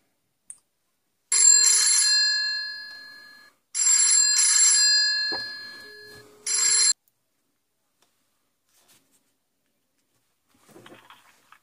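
A Q528 Y21 kids' GPS smart watch rings for an incoming call. Three bursts of a bright electronic ringtone sound close and clear, separated by short silences, and faint handling noises follow.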